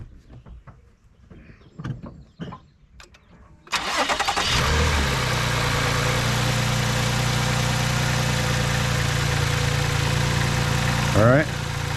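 Quiet clicks and shuffling, then an engine cranks and catches, settling into a steady loud idle that continues to the end.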